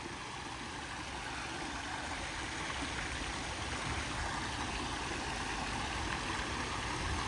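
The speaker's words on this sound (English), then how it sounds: "sitting with the waterfall going" Steady rushing water pours continuously from a backyard pool waterfall splashing into the pool, with a constant broadband wash and no voices.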